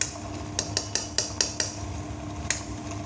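A wet grinder grinds rice for idli and dosa batter with a steady low motor hum, while the roller knocks out a run of sharp, evenly spaced clacks and then one more after a pause.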